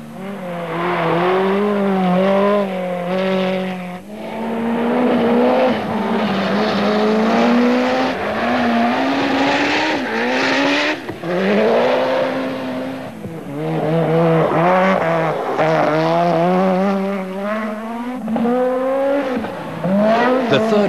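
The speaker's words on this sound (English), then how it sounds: "Scheckter is doing well in his 205 Evolution, just keeping up with Wilson in the Ford RS200 and Millen in a Mazda RX-7." Rally cars racing, among them a Peugeot 205 Evolution, a Ford RS200 and a Mazda RX-7, their engines revving loudly and continuously with rising and falling pitch as they shift gears, sustained for the whole stretch.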